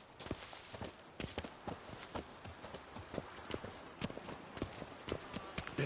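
Hooves of the horse Roach clip-clopping in The Witcher 3, a steady walking rhythm of sharp, close knocks over a low ambient bed.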